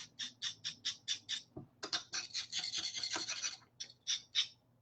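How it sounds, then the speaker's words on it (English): A knife is sharpened on a small whetstone in a prop shop, a series of short, bright rasping strokes in a quick rhythm, close and clear with no talk. "Someone's gonna get angry about how I sharpen knives because I don't like this little stone"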